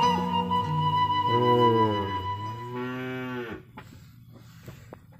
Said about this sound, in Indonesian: Oh, kita lihat anak sapi di sini, ada anak sapinya ya.